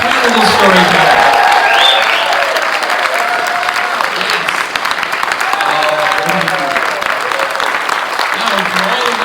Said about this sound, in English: can we have one more big round of applause for our incredible storyteller?